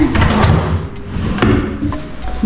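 A drawer in a small condo's built-in cabinet is opened, giving a close wooden sliding rumble with a couple of soft knocks.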